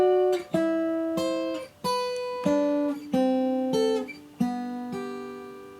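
Slack key guitar turnaround, with double stops picked low then high, played slowly without bass: about eight clear plucked notes ring one after another at an unhurried, even pace, close and alone.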